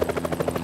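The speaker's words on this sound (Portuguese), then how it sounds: "Quando tem esse helicóptero?" A helicopter passes overhead with a loud, fast rhythmic rotor thump, each blade beat evenly spaced throughout.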